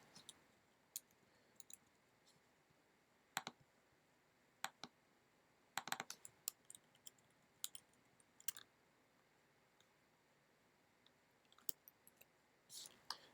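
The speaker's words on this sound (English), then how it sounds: "So when I type" Sparse keystrokes on a computer keyboard, faint isolated clicks and occasional quick clusters of taps spread over a quiet background, no speech.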